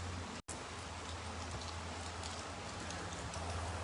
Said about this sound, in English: The splitter splattering of the rain.